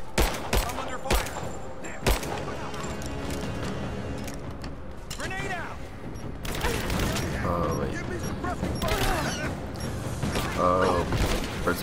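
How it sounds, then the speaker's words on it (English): Bursts of gunfire from the video game Rise of the Tomb Raider, several sharp shots early then a dense, loud stretch of combat noise with game effects, mixed with voices speaking throughout. "Shot fired! I'm under fire!"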